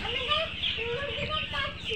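Farm chickens cluck and chatter in a poultry house, a steady busy flock heard near with overlapping calls throughout, under faint background voices.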